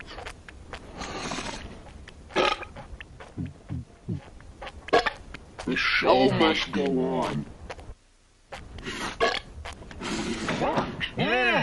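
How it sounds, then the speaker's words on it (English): Children burping in a burp contest at home, several short bursts scattered among lively talk and a parent's scolding voice. "We're having a burp contest, Mom."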